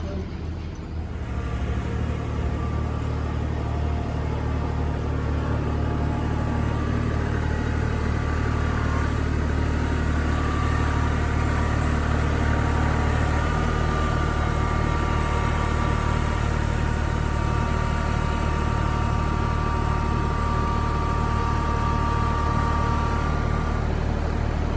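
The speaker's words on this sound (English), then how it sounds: "I'm gonna drive the tractor up." A tractor engine runs steadily and close by for the whole stretch as it drives up to a pallet on a firewood dolly, a continuous mid-pitched idle-like drone with a slight shift partway through.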